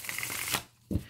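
A deck of playing cards being shuffled at close range, a brief rapid riffle of flicking card edges followed by a soft tap as the deck settles, with no talk.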